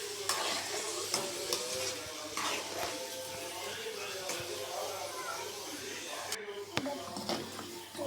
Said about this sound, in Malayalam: മീൻ വറക്കാൻ നമ്മൾ എണ്ണയ്ക്കകത്തിട്ടിട്ടുണ്ട്.